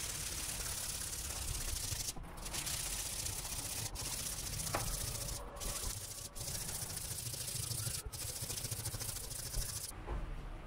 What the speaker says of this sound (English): now I'm gonna use this sanding pad to further smoothen the edge